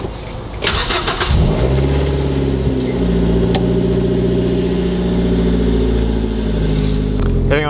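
A loud Mazda 3 engine starts in an apartment complex parking area: a brief cranking burst, then a steady, throaty idle that stays close and strong to the end, with no talking.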